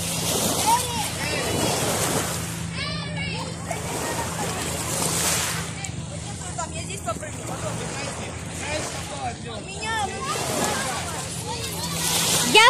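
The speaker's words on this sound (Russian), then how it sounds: "Сегодня мы слушаем звук моря." Sea waves slosh and splash close by, in repeated surges that rise and fall every few seconds, the water churning continuously with no voices over it.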